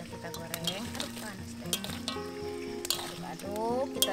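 Chicken being stirred in a frying pan for ayam mentega, with soft sizzling and scraping strokes under steady musical tones and a faint voice in the background.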